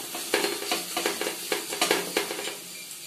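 A ladle stirs chicken curry in a frying pan, giving a quick, irregular series of scrapes and clinks against the metal over a light sizzle, close and fairly quiet with no one speaking.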